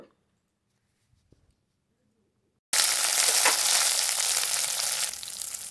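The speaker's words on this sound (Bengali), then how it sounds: "এখানে সর্ষার তেল দিয়ে অল্প একটু ভেজে নেব এরপরে এইখানে দিয়ে দেবো কুলগুলো" Jujubes sizzle loudly in hot mustard oil, a dense steady frying hiss that bursts in abruptly after near silence and continues without pause.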